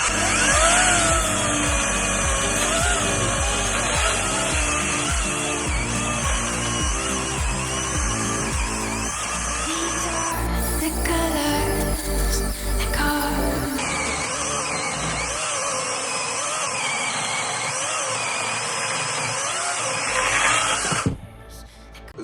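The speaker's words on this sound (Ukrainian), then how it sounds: "Зверніть увагу, що грушка не трухлява і досить важко грушку пиляти, хто знає, але пилка без проблем справляється" A ProCraft PKA 33 cordless chainsaw cuts through hard, sound wild pear wood using the full bar, its motor whining loudly and continuously for about twenty seconds, pitch dipping under load, close with no talk.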